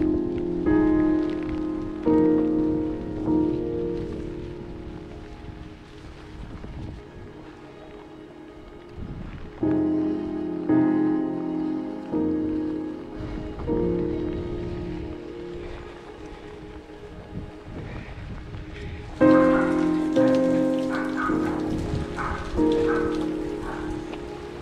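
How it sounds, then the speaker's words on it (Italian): Heavy rain from a thunderstorm pours steadily onto a surface for a long stretch, with tonal sounds layered underneath and the downpour swelling louder near the end. "La forte pioggia purtroppo ci ha preso nel momento peggiore,"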